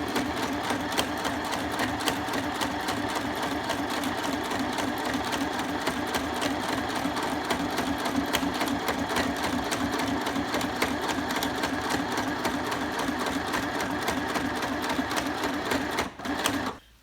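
A Stitch Happy paper-sewing machine from We R Memory Keepers stitches through paper with a fast, even mechanical chatter that runs nonstop at close range, then stops abruptly near the end.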